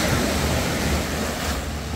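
Sea waves wash in at full high tide as a continuous, loud broadband roar of surf, blended with wind noise on the microphone, with no talking.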